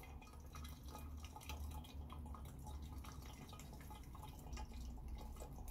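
Petrol trickles slowly into a test tube during an octane and ethanol test of Tesco Momentum 99, a close, steady run of soft drips and liquid patter over a low background hum, with no talking.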